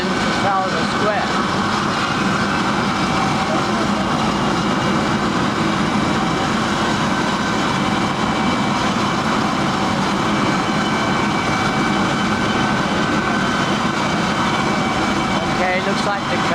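Helicopter that has landed in Trafalgar Square, London, its engine and rotor noise a loud, steady roar holding throughout with city bustle and voices mixed in.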